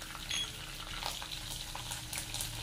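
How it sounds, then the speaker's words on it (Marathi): Curry leaves crackling and spluttering as they hit hot oil in a tempering, giving a steady close sizzle with scattered small pops and no talk. "कढीपत्ता छान तडतडला"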